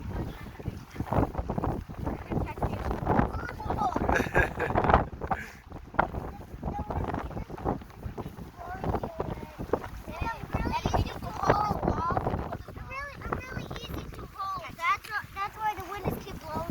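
Wind blowing outdoors on a windy day, gusty rumbling buffeting across the microphone throughout, with people talking over it.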